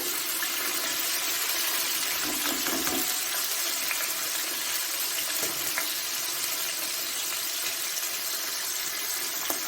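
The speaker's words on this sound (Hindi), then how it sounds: "अब मैं डालूंगी इसमें प्याज, आप लोग देख सकते हो।" Onions fry in a pan for beef pulao, giving a steady, dense sizzling hiss that stays loud and even throughout, close up, with only faint occasional clinks and no talking.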